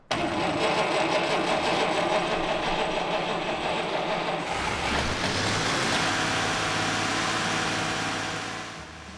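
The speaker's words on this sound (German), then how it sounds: "Nach ein paar Handgriffen schnurrt der Motor des Mercedes 200 Roadster aus dem Jahr 1934 wieder wie ein Kätzchen" A 1934 Mercedes 200 Roadster engine cranks and catches, then settles into a steady, loud running rumble close by before easing off at the end.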